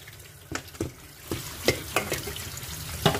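Half-cooked sticky rice being rinsed under running water, a steady wash of water with several sharp splashing scrapes as the grains are stirred and rubbed, close up and without talk.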